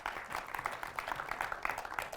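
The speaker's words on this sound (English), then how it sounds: "Huge round of applause." A small audience applauds, with fairly quiet, scattered clapping that carries on steadily for a couple of seconds.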